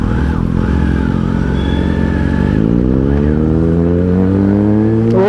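A Kawasaki Ninja ZX-10R sport motorcycle roars past in a fly-by, its loud engine note rising and then dropping in pitch as it passes close and revs hard toward the end, with no voices.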